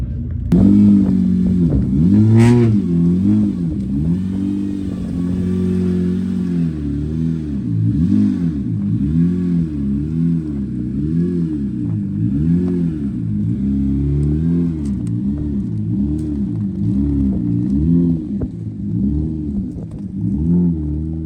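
Rally car engine revving hard and continuously under throttle, a loud, close, steady growl with rhythmic rises and falls in pitch throughout, plus a brief sharp clatter near the start.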